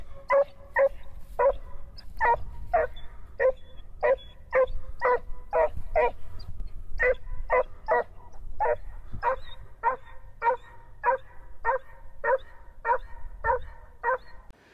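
Boar hunting dogs bark in a steady run of repeated yips roughly every half second, moderately distant, with a brief pause midway and faint background rumble.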